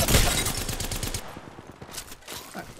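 Rapid bursts of gunfire in a shooter game, a dense volley at first that thins into scattered shots, loud and close throughout.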